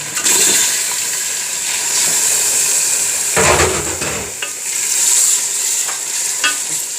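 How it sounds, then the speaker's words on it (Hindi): Bone-in chicken frying in a pan with browned onion and garlic-ginger paste, a steady close sizzle with occasional stirring scrapes, no one speaking. "फ्राई कर लूँगी थोड़ी देर, फिर मसाले ऐड करूँगी मैं इसके अंदर"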